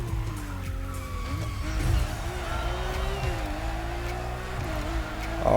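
A Lamborghini Murcielago drifts in a racing video game with nitrous, its engine droning steadily with shifting pitch under a continuous tire squeal, loud and close, swelling at the very end.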